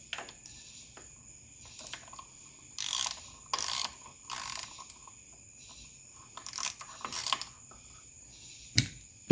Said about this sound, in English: And then let's get our filter loose.